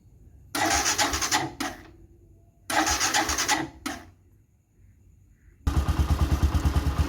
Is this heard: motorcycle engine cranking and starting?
yes